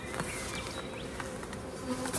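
Honeybees from an opened feral hive buzz steadily and close up, a dense continuous swarm drone with individual bees whining past, no talking.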